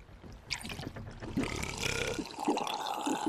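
A drunk character in a pirate video game lets out a series of gurgling burps, mixed with watery, sloshing sounds around a boat, close and fairly quiet.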